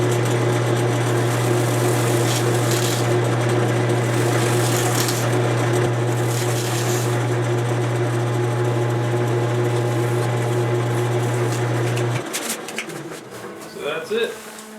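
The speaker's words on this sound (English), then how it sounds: "you just take wood shavings and hold it against the bowl" A burl bowl spinning on a wood lathe, pressed with a handful of its own wood shavings to burnish it, gives a loud steady motor hum with faint rubbing and scratching, then the lathe shuts off and winds down near the end.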